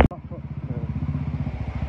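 A motorcycle engine with a modified silencer idles close by on a ride near Sundarijal, Nepal, with a steady, rapid pulsing thump that holds throughout.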